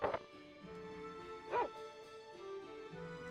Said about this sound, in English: He just learned to bark.